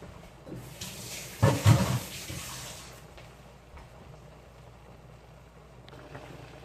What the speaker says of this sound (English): just blanching it for about 5 minutes